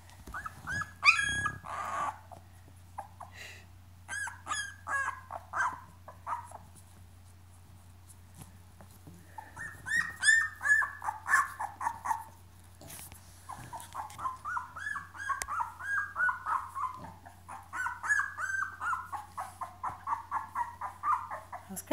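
Puppies whimper, yelp and growl in bursts of high-pitched cries and squeaks, several overlapping at close range, with a brief quiet stretch midway before the noisy chorus resumes.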